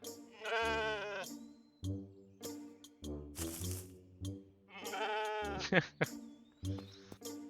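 Two sheep in the video game Lost in Play give repeated quavering bleats that come and go in short bursts, alone and fairly close, with brief noisy game effects between calls.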